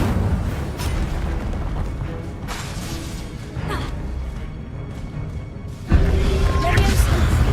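A fire spell bursts out during Hogwarts Legacy combat, giving a dense roaring whoosh over a steady game soundscape, followed by a louder, sharper blast near the end.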